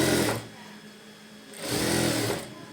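A sewing machine runs a second line of stitching over an existing seam while making invisible thread piping, whirring in two close, steady bursts separated by a short pause.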